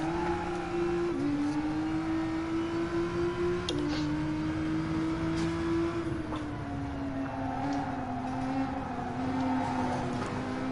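Nissan GT-R Nismo race car engine in Gran Turismo Sport: a steady, droning in-car engine note holding a fairly constant pitch with small shifts, continuous and close throughout, with no voices.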